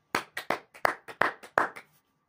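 A church congregation clapping to acclaim the Lord, about eight sharp, loud claps in a quick uneven rhythm, close and clear, then stopping.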